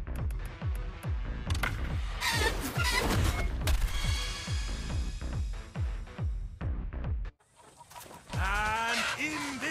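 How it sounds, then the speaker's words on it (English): A fighting rooster clucks and squawks amid thumps and scuffling, with rhythmic impacts through most of the stretch and a sharper crowing cry near the end. "Think your bird is a champion?"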